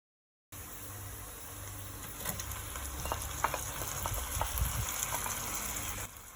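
Tuna curry frying in a pan with turmeric as tomatoes go in, a steady soft sizzle with scattered stirring clicks and scrapes, fairly quiet and close, with no voices.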